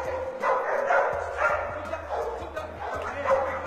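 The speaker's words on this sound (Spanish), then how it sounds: "En este ejercicio se suelta el perro." Pitbull barking and yipping during a release-and-grab training exercise, repeated bursts of fairly close barks with some whimpering and faint voices mixed in.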